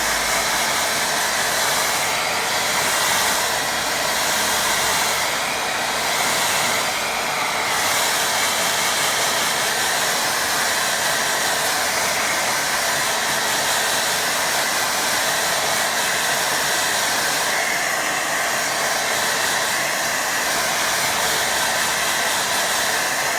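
A hair dryer blows steadily over a wet watercolour pond painting, a loud, constant close-up whoosh and hiss that stays even throughout with no voices.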